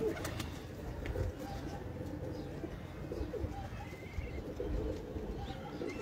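Homing high-flyer pigeons coo softly in a loft, low murmuring calls blended with faint rustling and background noise, fairly quiet throughout.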